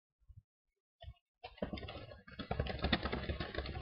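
Soft clicks, then a steady run of quick keystrokes as a status is typed on a computer keyboard, close and quiet in a silent room.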